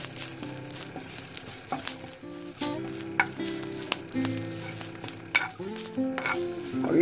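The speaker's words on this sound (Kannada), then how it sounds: "ಸೊ ಕೊನೆಯದಾಗಿ ನಾನು ಕರಿಬೇವನ್ನು ಹಾಕೊಡ್ತಾ ಇದ್ದೀನಿ" Curry leaves dropped into hot frying oil crackle and sizzle close by, with scattered pops, a stirring scrape and a faint tonal hum underneath.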